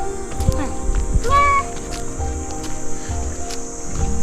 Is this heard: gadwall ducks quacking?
no